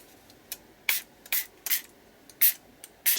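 Short, sharp spritzes from a spray bottle of colour spray for mixed media cards, about seven quick bursts at irregular intervals, close by and fairly loud, with quiet gaps between them.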